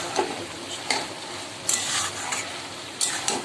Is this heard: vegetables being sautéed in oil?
yes